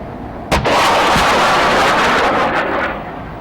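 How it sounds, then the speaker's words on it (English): A military missile launches with a sharp blast, followed by a sustained roaring rush that fades out over a few seconds, loud and distant at an army display with attack helicopters. "Missile fired and engaged target."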